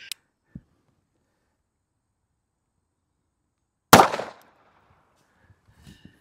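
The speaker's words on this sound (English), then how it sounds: "this time I'm going to shoot it out of my Kimber Micro 380" A single sharp gunshot from a Kimber Micro 380 pistol fired into ballistic gel, loud and close, arriving after a long quiet stretch, with a brief decaying tail and faint handling noises afterward.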